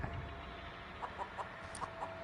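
A chicken clucks in a short run of close, soft, evenly spaced clucks over quiet background ambience in the Texas Chain Saw Massacre video game.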